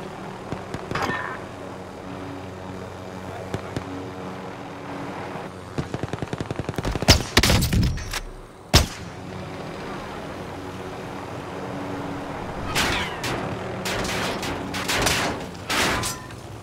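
Rapid bursts of automatic gunfire and single shots ring out in a shooter video game, with scattered close reports, a loud cluster of blasts midway, and more volleys near the end over a steady background hum.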